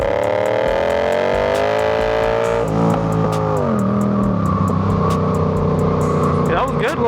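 A Yamaha R7 motorcycle pulls hard in third gear, its engine note climbing steadily, then dropping briefly at about 2.6 seconds before building again, loud and close throughout with no talking.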